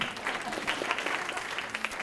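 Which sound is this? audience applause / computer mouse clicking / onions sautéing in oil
audience applause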